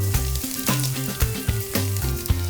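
Curry leaves and split green chilies hit hot oil in a pan with chopped onion, crackling in a steady close sizzle with sharp pops and spits scattered through, no voices.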